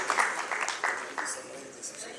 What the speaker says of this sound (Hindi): एक बार जोरदार तालियां हो जाए सभी मंच पर विराजमान हस्तियों के लिए।